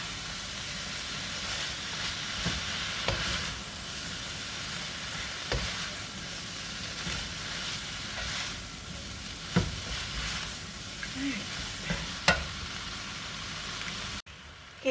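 Ground turkey and cabbage sizzle steadily in a frying pan while being stirred, with a constant hiss and occasional scrapes and clacks of the utensil against the pan.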